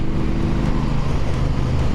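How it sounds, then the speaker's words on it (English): A 2023 Triumph Bobber motorcycle on the move gives a continuous deep, throaty engine and exhaust rumble mixed with wind rush, close and steady with no talking. "I can tell that this motor has a nice throaty tone to it"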